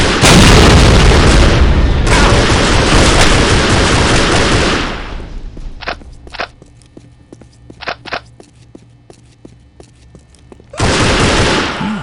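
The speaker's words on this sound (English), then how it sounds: "Shots fired!" Gunfire in the video game Postal 2 comes as loud, dense bursts of shots at the start, then a sparser stretch of single cracks and clicks, and finally another loud burst.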